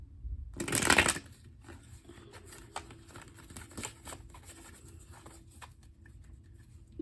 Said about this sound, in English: Let me go ahead and shuffle my other deck